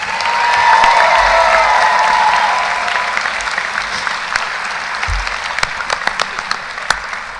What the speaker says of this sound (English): Please join me in a warm round of applause and acknowledgement of their influence and leadership.